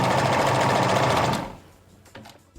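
A sewing machine stitches fabric and elastic together along the leg opening of a garment. It runs loud and steady with a rapid whir for about a second and a half, then stops, leaving faint room noise.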